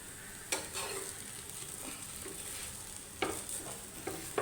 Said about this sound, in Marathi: असं परतवून घ्यायचं परत एकदा थोडंसं भाजून घ्यायचं पाठीमागच्या बाजून